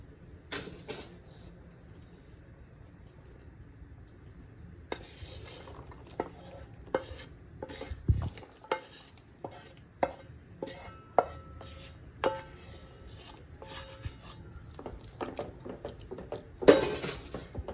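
Cooked vegetables going into cheesy white sauce pasta in a pan, with a scatter of clinks and taps of spoon and cookware against the pan, light scraping and stirring, and intermittent knocks throughout, no talking.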